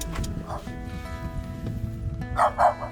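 A dog barking a few times outdoors, short sharp barks near the end, with people talking and background noise around it.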